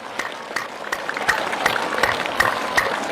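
A group clapping hands in unison on command during a spiritual talk, a steady run of separate claps roughly every third of a second that grow a little louder toward the end.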